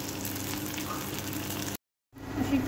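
Raw mango pieces coated in spice masala frying in hot oil in a kadhai, a steady loud sizzle that drops out briefly before resuming.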